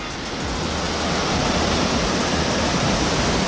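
A waterfall in Meghalaya pours in a steady, dense roar of rushing water that fills the air at close range, loud and unbroken throughout with no voices over it.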